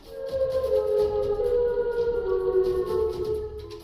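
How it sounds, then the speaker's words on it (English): A wailing warning siren sounds steadily, its tone wavering slightly as it holds, moderately loud with a faint hollow echo. "A warning siren rips through the small town."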